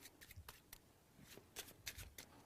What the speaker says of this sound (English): We even shuffle the cards.